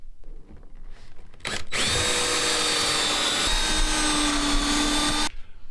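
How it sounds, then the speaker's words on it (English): A power drill pre-drills holes into a wooden bracket for an RV swivel table, whining loudly and steadily for several seconds after a brief start, then cutting off abruptly. "I'm going to pre-drill the bracket"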